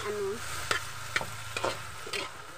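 Eggplant fries in a pan for adobo, a steady sizzle broken by four or five distinct spatula scrapes as it is stirred, close and moderately loud.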